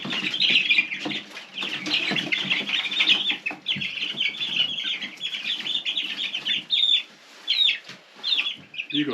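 Chickens on a homestead cluck and chatter in a busy, overlapping flock, with sharp squawks and excited calls coming in uneven bursts close by, loud and without a break.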